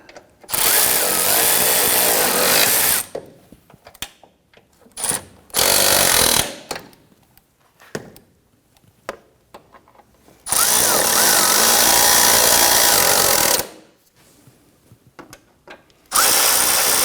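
Bursts of a power tool snugging fasteners on the right-side engine splash shield of a 2011-2015 Kia Sorento: three long loud whirring runs with short spurts between, separated by near-silent gaps.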